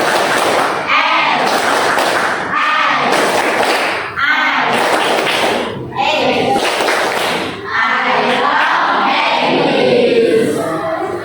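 A classroom of students performs the tepuk semangat clapping chant, rhythmic bursts of group clapping and shouted chanting in several loud phrases, with a teacher leading over the top.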